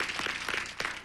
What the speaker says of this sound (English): Vicki Lawrence leading the applause